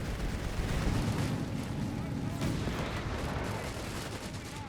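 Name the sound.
mortar rounds impacting, from video game Company of Heroes 3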